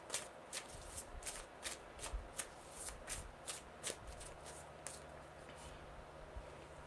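Tarot cards being shuffled by hand, a quick series of crisp riffling bursts in an irregular rhythm, close and fairly quiet, with no talk over it.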